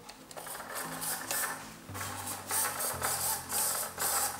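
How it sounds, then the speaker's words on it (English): Small servo motors whirring on a large foam RC airboat build, with steady mechanical buzzing tones that shift pitch as the servo moves back and forth, close and fairly loud, no talking. "All right, so let's try the servo."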